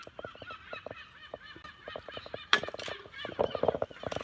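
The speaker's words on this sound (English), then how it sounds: "Listen to these seagulls." Seagulls, including young ones, calling in a rapid run of squawks and honking cries, fairly close, growing louder and busier partway through.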